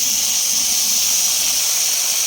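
A paste of ground tomato, ginger and cumin hits hot oil over already-fried potatoes, giving a steady, loud sizzling hiss that holds evenly throughout with no talking.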